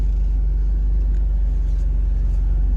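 A second-generation Toyota 4Runner with failed brakes rolls in under a carport, giving off a steady, close, low engine rumble and no voices.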